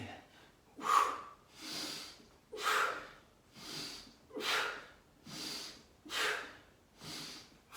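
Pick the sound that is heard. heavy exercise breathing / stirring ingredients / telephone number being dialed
heavy exercise breathing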